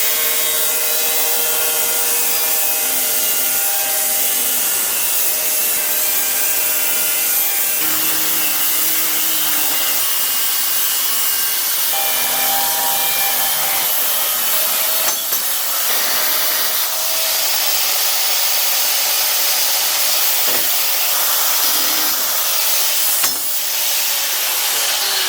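Metal pieces being cut for an engine stand, a sustained loud grinding-cutting whine with steady tonal harmonics running throughout, shifting pitch slightly as the blade bites, no talking.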